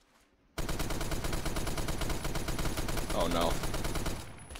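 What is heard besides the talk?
M60 light machine gun firing in Phantom Forces video game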